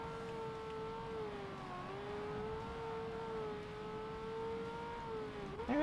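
Ferrari 355 engine in Forza Motorsport holding a steady, droning high-rev pull on a drag strip, a sustained tonal whine that dips briefly and swells again near the end.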